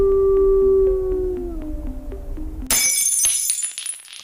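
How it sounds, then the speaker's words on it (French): A huge wolf lets out a long, loud, wavering howl that slowly falls in pitch, followed by a sudden crash of shattering glass with scattered tinkling fragments. "un hurlement résonna et un énorme loup s'interposa entre les 2"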